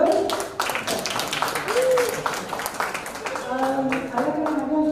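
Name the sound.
applause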